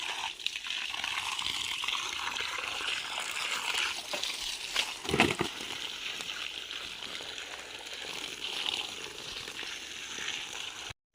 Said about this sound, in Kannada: ಈಗ ಇಲ್ಲಿಗೆ ನಮಗೆ ಇಷ್ಟು ಸ್ಪೀಡಲ್ಲಿ ನೀರು ಬರ್ತದೆ